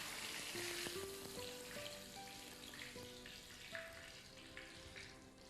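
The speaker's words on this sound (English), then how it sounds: "We let them fry for a short time on a very high heat" Steady loud sizzling of flowers frying in very hot oil, a continuous crackling hiss with faint clinks and tones underneath.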